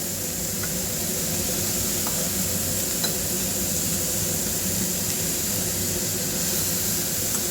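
Ivy gourd pieces are stirred into a sour buttermilk curry in a pan, a steady hissing sizzle with faint scraping stir strokes and a few small clicks, close and even throughout.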